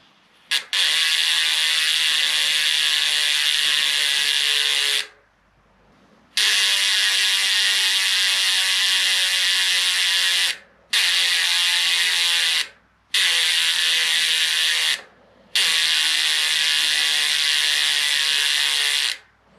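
A new mountain bike hub's freewheel buzzes with rapid ratchet clicking in long spinning bursts, stopping briefly four times before spinning again.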